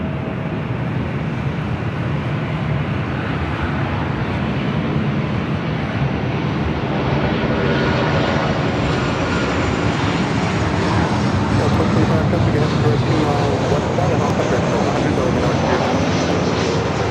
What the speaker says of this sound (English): This is Delta Airlines 2096 coming in from New Orleans on the 737-900 ER.